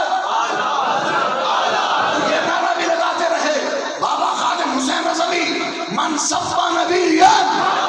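A large crowd chants the religious slogan Ishq o Mohabbat, a loud, continuous roar of many voices shouting in unison with rising swells toward the end.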